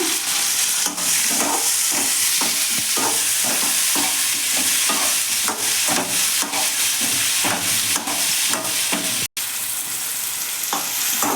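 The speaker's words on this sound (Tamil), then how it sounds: "ஒரு தக்காளி வந்து எண்ணெயில் வதக்கிறோம்" Oil sizzles and crackles steadily in a pan as tomato sautés, with a few stirring scrapes breaking up the continuous hiss.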